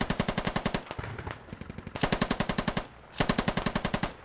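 A PKP Pecheneg machine gun fires in the military shooter Squad during a hillside firefight, three loud, close, rapid automatic bursts, each just under a second long, separated by brief pauses.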